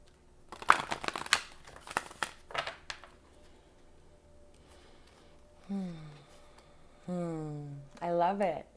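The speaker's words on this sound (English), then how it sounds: "One more shuffle." Angel cards are shuffled in a few quick, crisp riffling bursts up close in a quiet room, followed by someone speaking.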